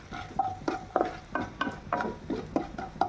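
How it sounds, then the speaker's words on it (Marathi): Chana dal and urad dal dry-roast in a pan while a spoon stirs them, with quick rhythmic scraping strokes about three per second and a faint sizzle underneath, close and moderately loud. "अर्धा चमचा मी उडीद डाळ घेतलेली आहे. हे पण अगदी खरपूस असे भाजून घेऊया."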